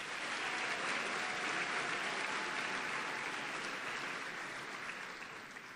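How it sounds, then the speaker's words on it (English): Steady, dense applause fills a hall at a high school honors convocation as students are recognized, an even wash of many hands that fades slightly at the close. "Let's applaud these students."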